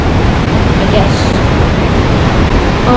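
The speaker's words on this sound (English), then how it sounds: "It's kind of windy right now, a little chilly." Wind blows steadily outdoors on a chilly day near a swinging bridge, a constant loud rushing roar buffeting the microphone for the whole stretch.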